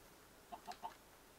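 A chicken in Minecraft giving three quick, faint clucks in a row, evenly spaced and short, over a quiet background.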